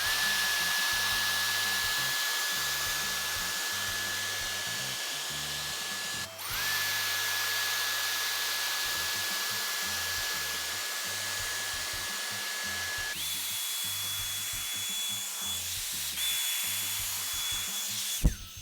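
A Dyson Airstrait straightener-dryer blows steadily on curly, frizzy hair, a loud continuous whooshing airflow with a high whine that briefly dips and then shifts to a higher-pitched tone near the end.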